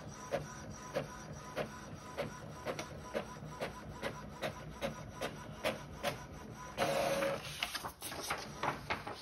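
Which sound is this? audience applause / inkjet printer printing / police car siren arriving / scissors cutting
inkjet printer printing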